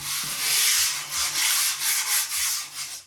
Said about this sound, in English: let's give this a quick sand down the middle